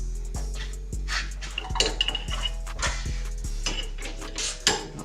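A 3/4 inch wrench works on the wheel studs of a Ford 8.8 rear axle from the back, giving a series of close, sharp metallic clinks and taps at an uneven, roughly steady pace.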